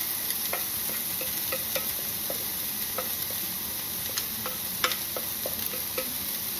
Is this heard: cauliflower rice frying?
yes